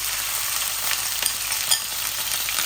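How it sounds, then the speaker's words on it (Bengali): Fennel seeds and cumin frying in hot oil in a pan make a dense, even hiss, with a few faint clicks and pops over the short stretch and no voices. "এই দেখুন আমার ভাজা ভাজা হচ্ছে মৌরি আর জিরা"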